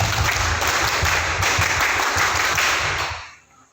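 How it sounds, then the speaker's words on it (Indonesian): An assembly gathered at a Pramuka scout district meeting claps together once, a dense, loud burst of many hands with a faint beat that holds for about three seconds and then quickly dies away. "Satu kali tepuk pramuka."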